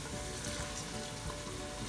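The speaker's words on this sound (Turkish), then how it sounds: "Evet, şöyle bir müddet kavuruyorum." Fresh green beans, half a kilo, sizzle and crackle steadily as they are sautéed in a pot, a dense, continuous frying hiss with faint stirring and no voices.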